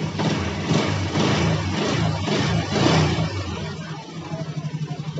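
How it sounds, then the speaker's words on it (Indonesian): Yamaha Jupiter MX motorcycle engine running after a jump-start from a battery, a loud, steady rough idle with some uneven revving, then a pulsing, throbbing beat toward the end, no speech. "Yuk kita hidupin motornya."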